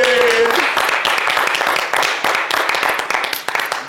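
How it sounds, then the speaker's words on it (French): An audience at a televised talent show breaks into applause, a dense, loud clapping that carries on steadily throughout with some crowd noise mixed in. "On l'applaudit!"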